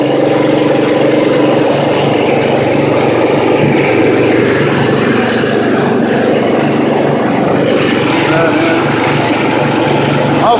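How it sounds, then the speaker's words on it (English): A push mower engine driving a generator runs steadily and loudly throughout, a continuous droning roar with slight dips as it bogs down under electrical load, close by and with no clear talk over it. "You can hear the motor drag down."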